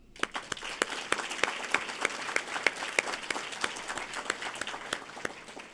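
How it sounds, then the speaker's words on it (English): Steady applause from a crowd, dense hand claps with no voices, holding at an even level throughout. "let's give all of you a round of applause"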